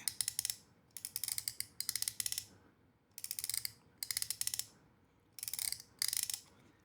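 The metal lever mechanism of a Wasteland Mech Wallet is worked again and again, short bursts of ratcheting clicks as cards rise and fan out, each bursting cycle separated by brief pauses.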